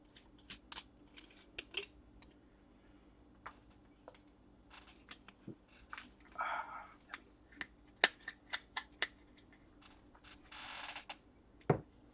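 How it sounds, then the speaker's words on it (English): A squeaky chair creaks and clicks at scattered, irregular moments, with faint sharp ticks and a few longer rasping squeaks against a quiet room hum. "Squeaky chair."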